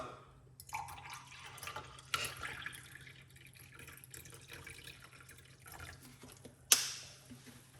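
Water poured into an apple cider vinegar drink made as a weight-loss detox recipe, a quiet dripping and trickling pour with a brighter splash near the end, heard alone without talk.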